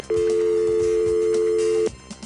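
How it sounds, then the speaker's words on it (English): A recall dial tone from a Number 1 ESS telephone switch plays as a single steady tone, clear and unbroken for nearly two seconds, over a faint background, then stops abruptly. "In number 1 ESS, they standardized the recall dial tone so that it sounded like this."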